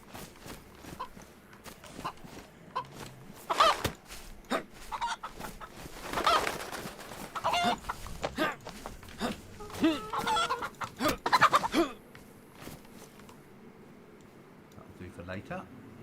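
Chicken clucking in the video game DayZ, a series of close, irregular clucks and squawks with footsteps and rustling, while someone talks over parts of it.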